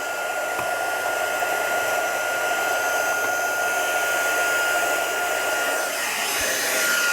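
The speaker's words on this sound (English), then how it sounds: "I'm going to be putting my heat tool on" An embossing heat tool blows hot air steadily and loudly close by for the whole stretch, a continuous broadband whoosh with a faint whine and no talking.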